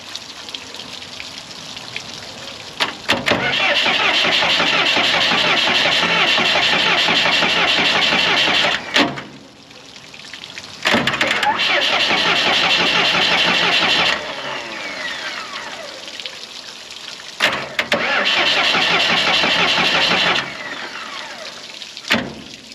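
A Morbark 2400XL wood chipper's engine cranks and catches, roaring loudly and steadily in several long runs broken by brief dips and restarts, close and dominant throughout.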